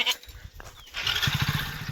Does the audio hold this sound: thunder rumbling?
no